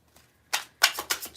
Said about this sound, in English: These cards shuffle in a different way than the ones downstairs.